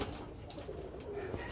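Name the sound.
Birmingham Roller pigeons cooing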